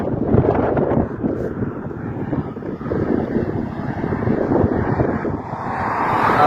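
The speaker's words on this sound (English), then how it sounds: "That whistling sound you hear is probably the wind." Wind gusting and buffeting a microphone during a bicycle tour into a headwind, a steady loud roar with broadband rumble and a faint whistle running throughout, no talk.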